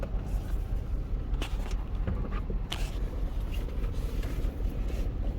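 A car that vibrates and shakes at idle, heard from inside on a test drive: a continuous low engine and road rumble with occasional faint knocks and rattles, no talking.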